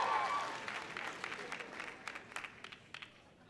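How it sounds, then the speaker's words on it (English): Audience at a commencement ceremony cheering and applauding, a dense burst of clapping that thins into scattered individual claps and fades within a few seconds. "did I hear a cheer from the farm team?"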